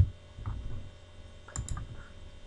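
Sparse clicks and key taps on a computer keyboard while working in Microsoft Visual Basic, falling in small clusters with quiet gaps between them and a sharper click at the end.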